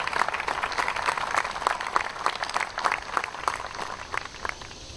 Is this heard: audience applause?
yes